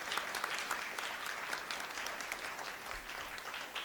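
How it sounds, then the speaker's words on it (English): An audience at a public debate applauds with dense, steady clapping that holds at an even level for several seconds, close and without talk. "A huge round of applause,"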